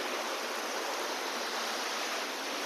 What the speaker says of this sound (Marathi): हे जे पाणी आहे मित्रांनो तर बारा महिने असं हे पाणी चालू असतं